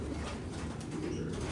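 Racing pigeons beat their wings and take off in a loft, a steady rush of flapping and rustling throughout with faint soft cooing mixed in, fairly close and continuous.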